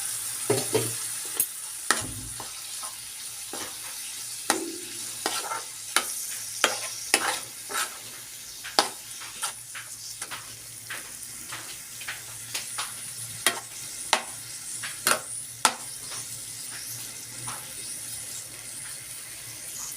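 Finely chopped tomatoes sizzle steadily in hot masala oil for a paneer, potato and pea curry, with frequent sharp scrapes and clinks of a spoon stirring the pan throughout, close and fairly quiet, no voices.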